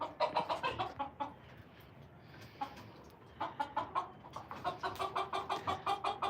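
A rooster with bumblefoot clucks in rapid repeated bursts close by, pausing briefly and then resuming a quick steady run of clucks.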